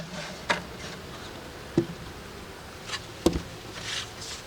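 Honey bees buzz faintly around a beehive fitted with honey supers, with a soft, steady drone and a few sharp ticks and taps nearby.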